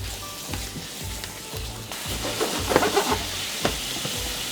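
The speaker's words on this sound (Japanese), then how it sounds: "でもまたごま油加えて先ほどねつけてたお肉焼いていきます。" Marinated meat frying in sesame oil in a frying pan over medium heat, a close steady sizzle with a rhythmic low thumping and a few louder crackles and utensil clicks toward the end.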